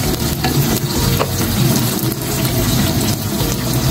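Tomato and onion sautéing in a pan after the garlic has browned, for sautéed bitter gourd with egg, a steady close sizzle with faint stirring scrapes throughout.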